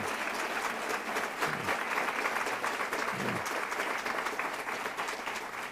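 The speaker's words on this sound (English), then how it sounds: "Would you please give him a round of applause?" Audience applause at a formal speech event, dense and sustained clapping from a large crowd that holds a steady level throughout.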